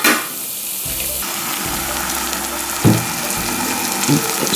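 Vegetable Manchurian frying in a pan, a loud, close, steady sizzle broken by a few clanks of stirring.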